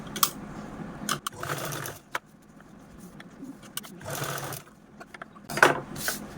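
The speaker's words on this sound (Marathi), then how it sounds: "इथे पण आपण सेम याच पद्धतीने फक्त कडेकडेनेच स्टिच करून घ्यायचं आहे" A domestic sewing machine stitching along the edges of a fabric strip for a cloth spectacle stand, in several short whirring bursts separated by pauses and small handling clicks, close by.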